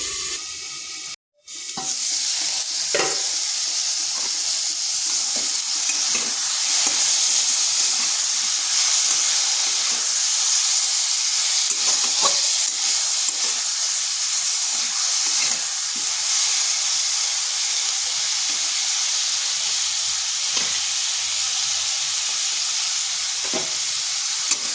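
Star fruit frying in a covered pan gives a continuous loud hiss and sizzle, steady and close for the whole stretch, after a brief dropout near the start, with a few faint clicks and no voices.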